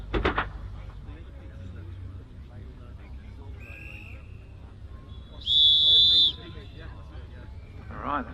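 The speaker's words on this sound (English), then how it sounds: "The whistles are blown to bring that to people's attention" Marshals blow whistles at a hill climb at Loton Park as the red flags are brought in. A short pip sounds first, then a long loud sustained blast rings out at a distance while a commentator talks over a low background hum.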